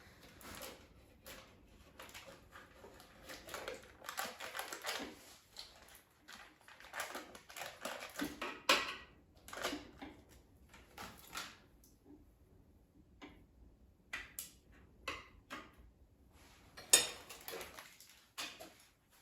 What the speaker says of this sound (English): you can cut it into pieces with a knife so it can be broken up by the food processor